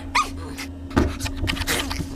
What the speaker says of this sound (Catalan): Oh, quin gos.